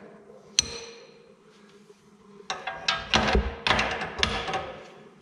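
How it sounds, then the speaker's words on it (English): Sharp metallic hammer taps on a Jeep TJ ball joint during suspension work, starting with one isolated strike and then a rapid, irregular cluster of close, loud hits over steady background noise. "tap it with the hammer and bring it back this way"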